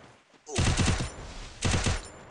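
Two bursts of rapid gunfire from the battle royale game Free Fire, each a loud close volley of shots, separated by a short pause.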